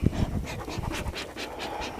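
A dog pants quickly and rhythmically close by, short breathy huffs repeating steadily, with no talking.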